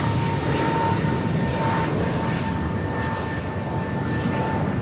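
An airliner rolls for takeoff on runway 25 right at LAX, a broad, steady engine roar heard from a distance with a faint whine running over it.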